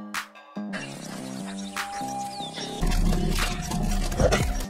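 Lion-tiger hybrid creatures in an alien sci-fi film give a low, rumbling roar that swells and builds, heavy and close, layered over a dense film score.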